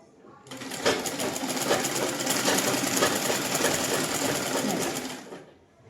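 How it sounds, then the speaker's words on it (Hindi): Close by, a sewing machine stitches lace onto a dupatta, giving a rapid, steady mechanical chatter that starts up, runs continuously for several seconds and then winds down. "और फिर इस पे ऐसे लगाएंगे सिलाई"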